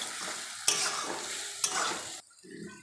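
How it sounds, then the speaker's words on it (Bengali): Chopped tomato stirred with a spatula into sizzling spiced meat masala in a pan, a steady loud fry broken by two sharp scraping stirs, then quieter sizzling. "এবারে দেব টমেটোর কুচি, দিয়ে ভালোভাবে নেড়ে নেব।"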